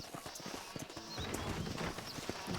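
Horse hooves clip-clop on the ground of a corral in the Red Dead video game, steady irregular steps over a busy, noisy background with no speech.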